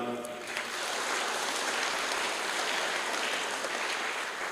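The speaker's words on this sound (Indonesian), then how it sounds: "Sekali lagi kepada Bapak Sekjen kita berikan tepuk tangan." Sustained applause from a seminar audience at an international public seminar's closing, a dense even wash of many hands clapping throughout, fairly close and loud.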